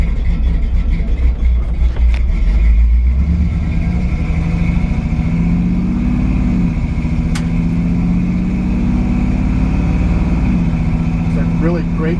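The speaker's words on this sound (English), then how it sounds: "Got an awesome exhaust system. It's a really nice beefy sounding V8" A 1965 Chevrolet C10 pickup with a 350 V8 and aggressive aftermarket exhaust drones steadily while cruising, deep rumble rising and falling with throttle, heard from inside the cab, with someone talking over it.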